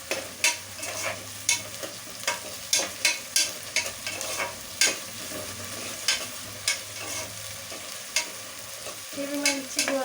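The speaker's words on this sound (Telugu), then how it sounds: "దీంట్లోనే పచ్చిమిర్చి, కొంచెం అల్లం పేస్ట్, అలాగే వెల్లుల్లిపాయలు వేసి వేయించాలి." Green chilies, ginger paste and garlic frying in a pan, loud close sizzling with regular scraping stirs from a spatula and a low hum underneath, no voices.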